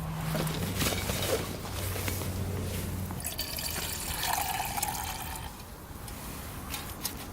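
Water is poured into a pot for boiling on a tablet-fuelled camping stove outdoors, a steady splashing fill for about three seconds that trails off into faint trickles and drips.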